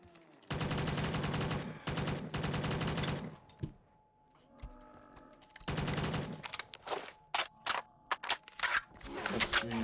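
Bursts of automatic rifle fire from an AK-12 in a Minecraft survival game, two long loud sustained volleys, then a pause, another long burst and a string of short sharp shots.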